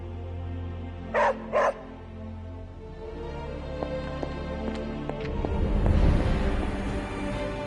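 The dog Charlie in the video game Marvel's Midnight Suns gives two quick, close barks over a low ambient hum, followed by soft footsteps and a swelling rumble.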